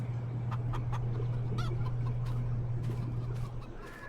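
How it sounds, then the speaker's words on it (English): Chickens cluck in short repeated bursts at a coop on a farm in Farming Simulator 22, set against a steady low hum of background noise. "the chicken coop straight ahead of us has been added to the game"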